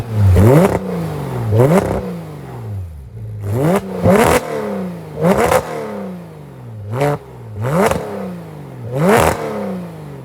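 Porsche 991.2 GT3 with catted street headers and a loud muffler, revved in a series of about seven sharp, loud blips that rise and fall quickly, close by, with no talking.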